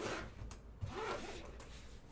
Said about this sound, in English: You can see, you zip it up,